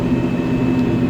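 A Kioti HX1301 tractor engine holds a steady low drone at hand-throttle setting, constant and close, with no speech.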